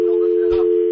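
A steady telephone dial tone hums on an open line after a radio show caller is cut off, loud and unbroken, with a faint burst of background noise midway.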